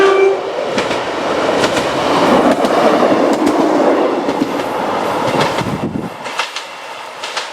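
A train rumbles past nearby, north of Llanbister Road station in Powys, Wales, loud and steady with rhythmic clattering wheels, then quickly fades away into quiet.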